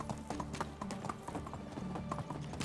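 Horse hooves clip-clop in a steady trotting rhythm while riding in the video game Medieval Dynasty, close and moderately loud, with the gait continuing throughout.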